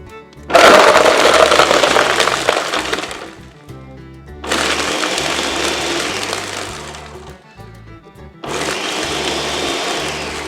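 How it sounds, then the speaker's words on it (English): A blender runs in three loud bursts, grinding and crackling through hard ice, with short quieter pauses between them. "Now that we've got our ice in our blender, it's a simple matter of getting this going."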